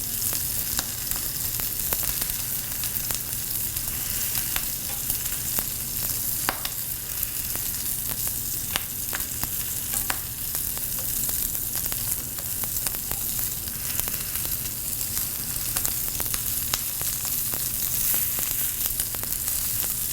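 Steak pan-searing in a pan, a continuous close crackling sizzle with frequent small pops and spits, steady throughout without talk.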